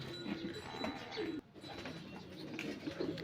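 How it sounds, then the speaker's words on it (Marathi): Soft, repeated pigeon coos over a steady background murmur, with a brief dip partway through. "बाजूच्या खोलीमध्ये कबुतर"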